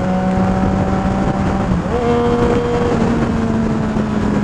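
A Yamaha XSR900 motorcycle engine runs close and loud, its tone stepping in pitch as gears shift, with a brief dip in the drone partway through before it settles again.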